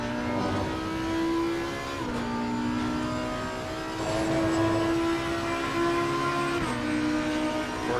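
An Audi EVO GT3 race car engine in Assetto Corsa Competizione at Silverstone drones steadily in-game, with pitch shifting through gear changes around the two-second and near seven-second marks, continuous and fairly loud.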